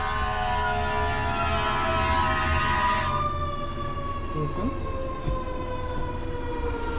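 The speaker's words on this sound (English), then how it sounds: "Got some fire engines." Fire engine sirens wailing as the trucks pass outdoors, loud wavering tones that slowly fall in pitch as they move away, with someone speaking briefly over them.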